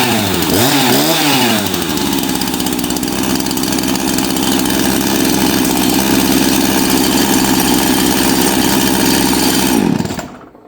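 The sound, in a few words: Jonsered 2149W Turbo chainsaw engine idling too high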